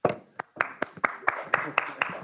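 One person clapping alone for a speaker at a business school event, giving about a dozen crisp, close claps in a steady, slightly quickening rhythm with no crowd joining in.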